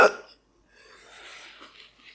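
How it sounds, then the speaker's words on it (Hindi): A single sharp hiccup bursts out at the start, loud and close, followed by near silence and then faint, breathy background murmur. "हिचकी क्यों आ रही है?"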